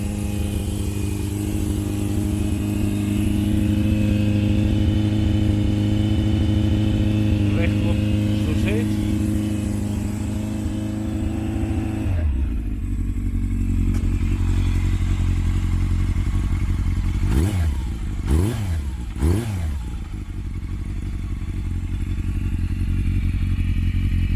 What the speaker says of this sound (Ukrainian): люблю звук цього мотора.